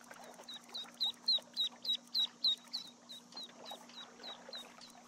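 Ducks quacking inside the Skyrim video game, a run of about seven clear, evenly spaced quacks in the middle over a steady low hum and soft ambient birdsong, with further fainter quacks trailing off toward the end.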